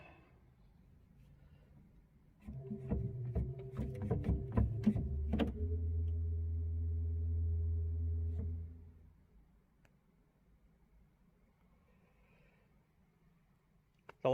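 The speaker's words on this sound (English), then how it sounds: "The second stop on the pedal organ is the 16-foot bourdon" The 16-foot bourdon pedal stop of the church organ at Bellshill Central Parish Church plays a short phrase, rising into a deep, dark, sustained low tone that fades into a quiet, reverberant room.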